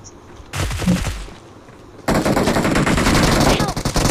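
Automatic gunfire in the mobile shooter BGMI, a brief loud burst followed by a sustained rapid barrage of shots, with a voice briefly audible.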